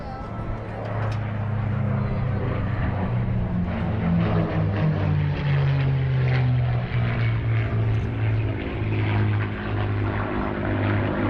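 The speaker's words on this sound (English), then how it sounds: "the motors we were listening to, those Rolls-Royce motors, when the Brits put it on this Mustang" Propeller aircraft fly in formation at an airshow, with P-51 Mustangs powered by Rolls-Royce engines: a loud, steady droning engine roar that swells and holds throughout.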